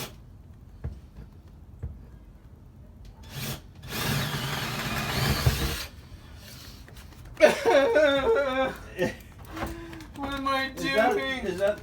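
A power tool cuts through particle board in a single loud, harsh burst lasting about two seconds, followed by people talking nearby over quiet background sounds.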